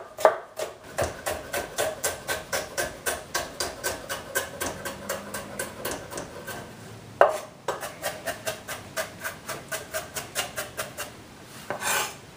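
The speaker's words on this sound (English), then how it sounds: "I'm just going to cut the celery into some really kind of, they have to be really, really thin." A knife chops celery thin on a cutting board in a home kitchen, a steady run of crisp, evenly spaced taps close by with a short pause midway, no talking.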